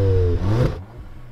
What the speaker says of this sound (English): Let's hear the previous gen Golf R rev up.